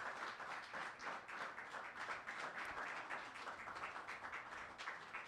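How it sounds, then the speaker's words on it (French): A church congregation applauds for the Lord in steady, dense clapping that fills the room at an even level for several seconds. "Acclamons pour le Seigneur."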